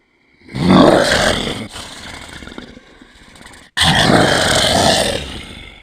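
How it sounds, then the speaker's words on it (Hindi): A loud, menacing animal growl erupts in a long rasping burst, drops to a lower rumbling tail, then cuts out before a second harsh roar returns at full strength, used as a horror sound effect with no talking. "मुझे किसी जानवर के गुर्राने की आवाज़ सुनाई दी।"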